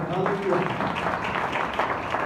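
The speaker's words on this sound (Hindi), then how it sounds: "आइए खुदा के लिए जोरदार तालियां।" Congregation applause during a Sunday church service, a sustained wash of clapping from many people with a voice speaking over it near the start.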